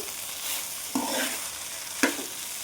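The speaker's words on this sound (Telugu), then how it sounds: "ప్రాసెస్ మొత్తం హై ఫ్లేమ్లోనే జరగాలండి. అన్నం అయితే బాగా వేగాలి" Chicken fried rice stir-fried on high flame, a continuous close sizzle broken by two sharp spatula scrapes against the pan, with no voices.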